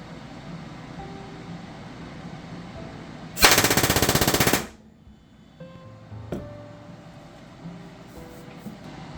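Rapid machine-gun-like burst from an RDX B.O.S.S. trigger system firing on full auto, loud and sustained for about a second, followed by quieter clanks and a sharp click in a mostly quiet room.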